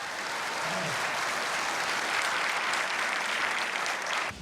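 Audience applause breaks out for director Bong Joon-ho as American filmgoers gather for a screening of Memories of Murder, a dense, steady roar of many clapping hands sustained throughout.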